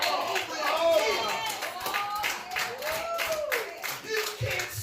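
Church congregation clapping hands in a quick, steady rhythm of sharp claps, with a preacher's voice speaking loudly over the top throughout.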